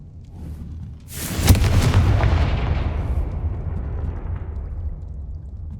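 Confringo blasting curse in a Harry Potter video game: one sharp, loud explosive boom that rolls into a long, fading rumble, heard alone.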